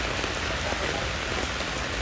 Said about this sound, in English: raining so much.